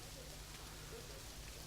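Steady rain falls in the Planet Zoo video game as a constant, even hiss with no breaks, heard at a moderate level throughout.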